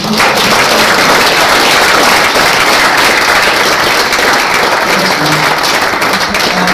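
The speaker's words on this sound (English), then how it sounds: "So can we give him another round of applause?" An audience at a 20-year celebration for a long-serving staff member gives a loud, sustained round of applause, dense clapping that holds steady throughout with faint voices underneath.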